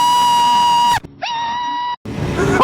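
A person screams loudly into motorcycle helmet communicator and wireless microphones, giving two long, piercing screams separated by a short gap, then a rougher yell, close and very loud.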